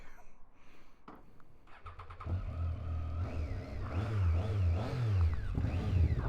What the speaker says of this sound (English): That's the tractor.